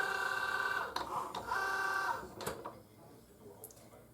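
A Cricut Joy cutting machine slicing thick-backed Smart Vinyl gives a steady mechanical whirr with tonal motor hum and a few clicks of the carriage moving, then quiets toward the end; close and alone.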